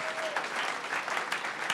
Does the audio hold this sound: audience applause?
yes